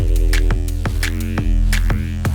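Neurofunk bass patch built in the Vital synth with high-passed pink noise layered in, a loud, buzzing, rhythmic bass line with repeated sharp hissy transients and a steady low drone.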